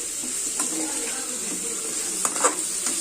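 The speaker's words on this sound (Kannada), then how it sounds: "ಈಗ ಇದು ಚೆನ್ನಾಗಿ ಫ್ರೈ ಮಾಡ್ಕೊಳ್ಳೋಣ, ಸಾಫ್ಟ್ ಆಗೋವರೆಗೂ" Something fries in a pan until soft for a paneer masala gravy, a steady hissing sizzle with a few soft stirring scrapes and clinks.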